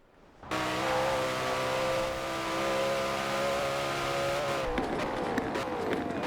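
Koenigsegg Jesko hypercar in Forza Horizon 4 roaring under sustained high revs, a steady loud engine drone with rising harmonics through a race, shifting tone near the end.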